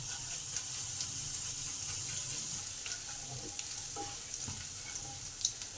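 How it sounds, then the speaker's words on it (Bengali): Ginger, green chili, mustard seeds and cumin sizzle steadily in hot oil, a constant crackling hiss with occasional soft scrapes of stirring, close by and without talk. "আদা, লঙ্কা, সর্ষে, জিরে ভালো করে ভেজে নেব।"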